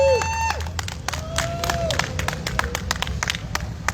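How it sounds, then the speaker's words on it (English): Audience at a season-finale awards moment breaking into applause, a dense run of sharp hand claps with scattered cheers and crowd chatter, fairly close, with tonal beeps and whistles sounding near the start. "Let's have a round of applause for Allie D."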